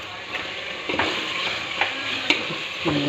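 Ginger, garlic and green chili paste fries in hot oil with a steady, close sizzle, broken by a few scraping stirs of a spoon against the pan.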